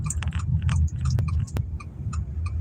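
Close, wet chewing of food while eating, with irregular crunchy bites and clicking mouth sounds over a low hum of background noise, with no talk.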